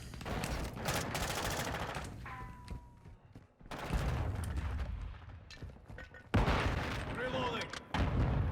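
Gunfire in the Modern Warfare 2 beta video game, bursts of rapid automatic shots and sharp cracks broken by short quiet gaps, with a voice talking over parts of the action.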